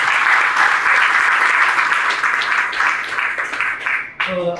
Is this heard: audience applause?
yes